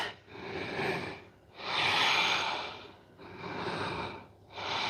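Slow, deep breaths drawn and released through the nose during a yoga lunge, about four long rhythmic swells close to the mic, each breath broad and airy with brief pauses between, no talking.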